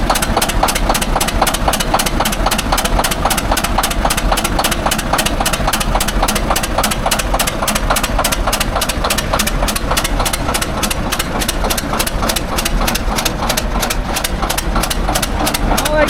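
Tired heavy equipment engine idling rough on about three cylinders, a loud, steady, rapid uneven chugging with a misfiring beat that runs unbroken throughout, close by.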